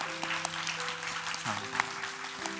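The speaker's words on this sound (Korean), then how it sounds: "저희 박수로 환영하고 축복하도록 하겠습니다" Church congregation at a Sunday young adults' worship service clapping to welcome visiting missionaries, a steady wash of applause over sustained organ-like tones in a large room.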